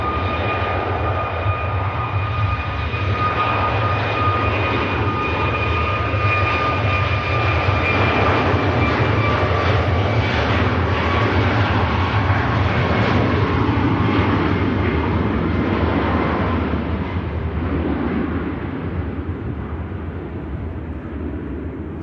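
A Ryanair jet bound for Tenerife departs Manchester Airport with a loud, sustained engine roar and a faint whine, steady for most of its length and easing slightly toward the end.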